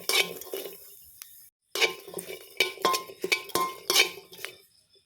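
Metal spatula scraping and clinking against a pan while chilies, shallots and garlic roast, in irregular bursts of clatter with a brief silent pause near the start.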